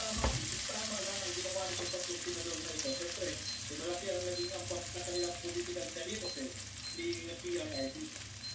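Onions frying in a pan make a steady, close sizzle that runs throughout, with a voice talking faintly underneath.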